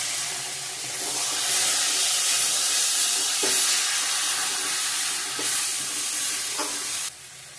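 Tomato paste frying in a pan for a home-cooked egg curry, a steady broadband sizzle with occasional stirring scrapes and clicks, loud and close, fading at the end.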